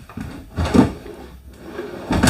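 A soft-closing kitchen drawer in a 2025 Flagstaff/Rockwood travel trailer slides shut with a couple of muted, cushioned thumps, heard fairly close with no talking.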